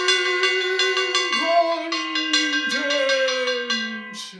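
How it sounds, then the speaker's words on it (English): A bell rings out in a classroom setting, with rich sustained harmonic tones and a series of repeated strikes layered over a continuous ringing hum, loud and close with no talking. "I'm going to ring that bell"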